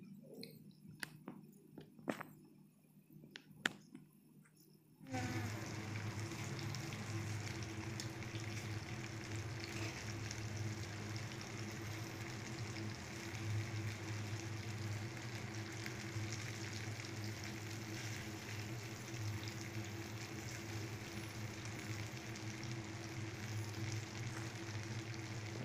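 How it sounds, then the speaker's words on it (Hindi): Taro frying in oil with a cumin tempering in a wok: after a few seconds of quiet clatter, a loud, steady sizzle starts and holds for over twenty seconds, close and continuous. "इसमें जीरा का छौंक डालेंगे और इसे भूनेंगे।"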